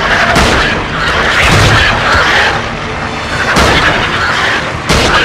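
Game gunfire from Peter Jackson's King Kong rattles loudly and continuously in repeated bursts, close and dense, with no talk over it.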